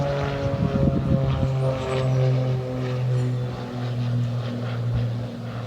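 A propeller airplane flies over near an airport, its low droning engine loud and steady with a rumbling, slightly wavering pitch, heard alone.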